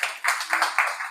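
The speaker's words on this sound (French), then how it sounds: "Applaudis pour Dieu." A church congregation applauding, a short burst of rhythmic, evenly spaced claps, fairly close and clear.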